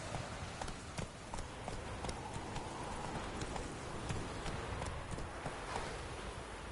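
Galloping hoofbeats of the horse Roach in The Witcher 3, a quick steady clip-clop running continuously and fairly close, with a faint rustle beneath and no talk.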